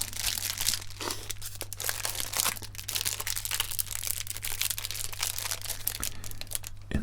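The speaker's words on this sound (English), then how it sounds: "insert the movie and the case inside a protective plastic bag" A protective plastic bag crinkles and rustles continuously as a DVD and its case are slipped inside, close and soft in a quiet late-night DVD store setting, with a steady low hum underneath and no talking.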